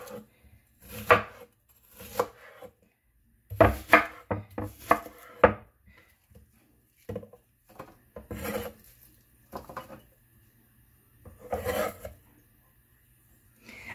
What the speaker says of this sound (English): Let me chop up my onion.